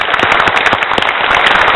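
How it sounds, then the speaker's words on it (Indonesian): Dense, steady applause from a studio audience at an Indonesian televised candidates' debate, loud and close with a crackling wash of many hands clapping at once and no voices over it. "Berikan tepuk tangan untuk Anda."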